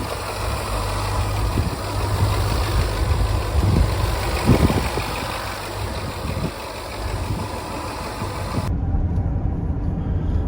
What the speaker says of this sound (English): the car's done. I'm just out on a test drive now